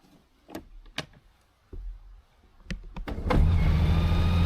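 A Honda Gold Wing Tour motorcycle's ignition switches on: a few sharp, separate clicks and relay ticks, then a steady electric whir that rises and holds as the systems power up.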